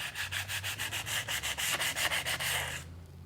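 Sandpaper rubs lightly over painted wooden trim, feathering the edges of scraped, peeling paint in about a dozen quick, even back-and-forth strokes up close before stopping abruptly.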